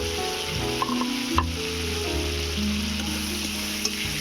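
Soaked chickpeas sizzle in hot spiced oil, a close, continuous frying crackle with a few sharp pops and bits of stirring.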